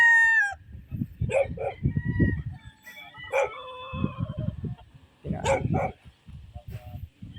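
Gamefowl roosters crowing at a game farm: several loud, close crows rise one after another, with a dog barking among them.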